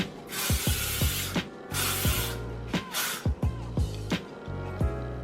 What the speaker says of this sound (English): Now I'm gonna take my hairspray, I don't know, Stronghold hairspray